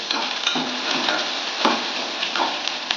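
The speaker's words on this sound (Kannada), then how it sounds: "ಒಂದು ಈರುಳ್ಳಿ, 3ರಿಂದ 4 ಹಸಿಮೆಣಸಿನಕಾಯಿ ಹಾಕಿ ಫ್ರೈ ಹಾಕಬೇಕು" Onion and green chillies fry in a pan, a steady close sizzle with occasional stirring scrapes and soft knocks, and no talk.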